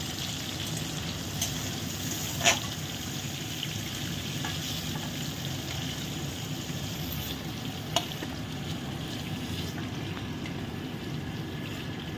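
Prawns sizzle gently in a pan for a Bengali malai curry, a steady close crackle over a soft low rumble with two sharp clicks of a utensil, and nobody speaking.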